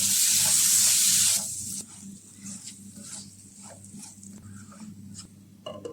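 Boiled potatoes dropped into chili masala frying in a pan, a loud hiss at first that settles into soft crackling and patter, close by.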